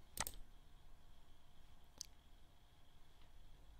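A single sharp mouse click, close and crisp, with another faint click about two seconds later over quiet room hiss.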